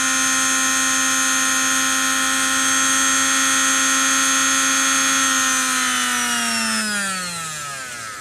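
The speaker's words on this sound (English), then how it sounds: "that's the Sew-Tric limited London sewing machine" A Sew-Tric London sewing machine's electric motor runs at full revs with a steady loud whine, then the pitch drops smoothly as it winds down near the end.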